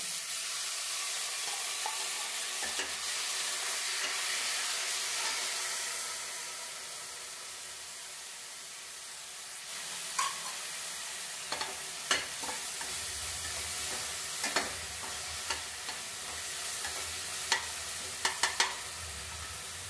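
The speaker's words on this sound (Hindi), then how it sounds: "अब इसमें हम प्याज डालेंगे।" Onions sizzle and fry in a pan with toasted fennel seeds, a steady broad hiss running throughout, with occasional sharp clicks and scrapes of stirring growing more frequent in the second half; no talking.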